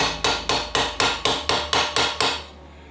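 A hardened knife edge struck against mild steel held in a vise, nine evenly spaced loud metallic hammer-like strikes in quick succession, each ringing briefly before the next, then quiet.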